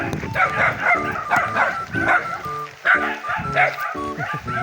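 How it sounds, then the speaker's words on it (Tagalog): A pack of dogs barks steadily, close by, with sharp overlapping barks and occasional yelps throughout. "Daming aso."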